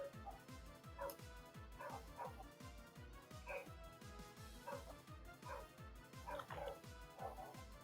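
Several dogs bark and yip outdoors, picked up faintly through an open window by a microphone, in a steady string of short woofs under a continuous background of music.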